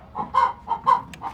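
Two chickens on a farm clucking in short, close bursts, about five clucks in a quick uneven rhythm with no voices.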